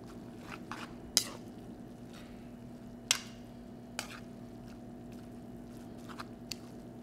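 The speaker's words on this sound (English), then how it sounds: "Mix it up a little bit." Thai glass noodle salad being tossed with lime juice and dried pepper, giving a few soft wet squelches and sharp utensil clicks spaced over a quiet, steady background hum.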